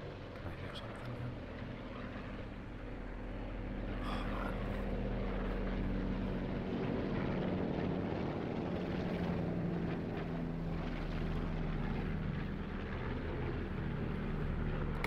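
Supply-drop aircraft in the Call of Duty Black Ops 4 Blackout battle royale, a steady low propeller drone that swells and holds loud over rumbling game ambience, with a faint voice underneath.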